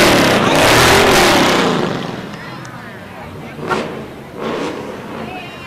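An American muscle car engine roars loudly at a Fourth of July parade in Chautauqua County, a broad rumbling rev that swells then fades, followed by a couple of sharp pops amid crowd noise and talk.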